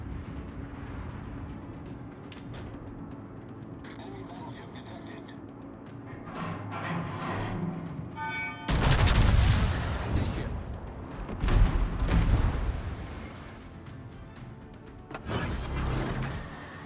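Heavy naval gun salvos boom out in World of Warships gameplay, several loud broad blasts arriving in bursts over a continuous engine-like rumble and game ambience.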